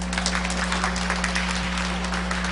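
Congregation applauding in a church service, a steady wash of clapping at moderate level over a constant low hum.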